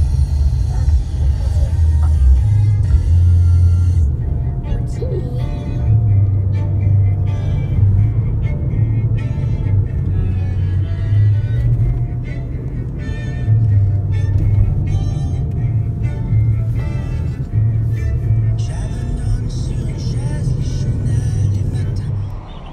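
Steady engine and road rumble from inside a car driving through a village in the Swiss Alps, constant and fairly loud, with a voice talking over it.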